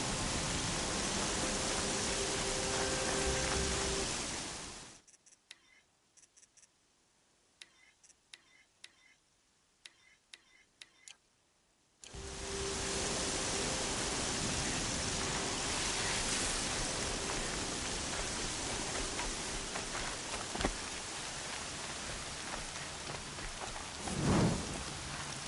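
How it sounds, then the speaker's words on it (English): Steady rain hisses loudly in the Horizon Zero Dawn video game, cutting out for several seconds of near silence with faint ticks, then returning as a heavy downpour with a brief louder burst near the end. "Air's heavy with rain"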